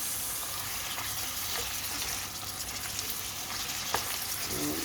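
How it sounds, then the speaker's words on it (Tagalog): Onion and beef frying in a pan as they are stirred together, a continuous close sizzle with faint scraping, steady throughout and without voices. "Maghalo ang ating onion at saka beef"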